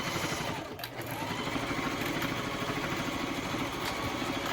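A Janome domestic sewing machine runs a back stitch, its motor humming steadily with a rapid, even needle chatter that barely pauses once early on.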